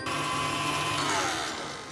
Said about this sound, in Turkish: Tekrar mikserimin kapağını kapatıyorum ve çırpmaya devam ediyorum.